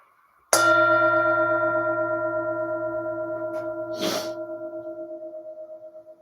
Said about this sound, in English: I'll invite the bell to sound one more time.